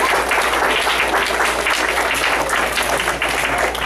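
An audience applauds trophy winners at a martial arts belt testing day, a steady, dense wash of clapping that holds at an even level throughout.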